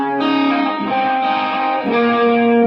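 Electric guitar played through chorus, delay and reverb effects, used here for a cleaner tone, rings out in sustained notes and chords with a shimmering, washed tail, loud and close with no talking.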